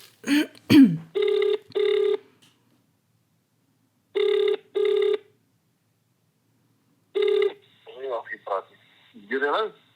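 An international phone ringback tone, UK to US, sounds in paired bursts, repeating with pauses, then a voice begins speaking over the line.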